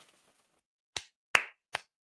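Three sharp, separate claps ring out close by, spaced roughly evenly after a short quiet stretch, with no voices around them.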